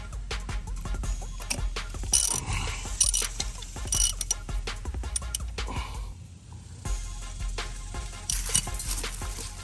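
A ratchet wrench clicks as the oil drain bolt is loosened on a KX 500 motorcycle, giving rapid mechanical ratcheting bursts with short pauses over a low background hum, close and fairly loud.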